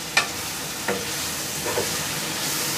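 Tomatoes with onion being sautéed and stirred for Tamil fish kuzhambu, a steady close sizzle with three distinct scrapes of the spoon across the pan.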